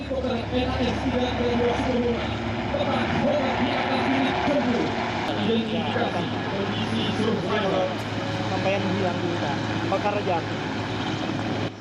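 Military helicopter during an air force combat exercise in which troops disembark, giving a steady, loud engine and rotor roar throughout, with voices talking over it.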